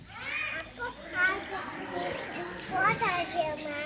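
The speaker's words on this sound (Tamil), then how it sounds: "ஓடுது ஓடுது தண்ணி" Water gushes steadily from a pipe while children's voices chatter over it.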